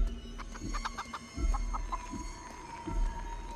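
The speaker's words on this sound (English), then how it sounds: "I do love chickens." Chickens cluck in the video game Chicken Feet: a series of short, close clucks in uneven bursts, with a few soft low thumps in between and no talking.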